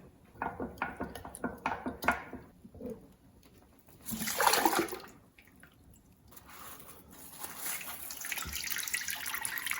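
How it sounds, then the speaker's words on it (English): Wet, liquid sloshing and gurgling as a fermenting makgeolli mash made with nuruk is stirred, close and uneven, in bursts with brief lulls. "Just going to stir this a bit."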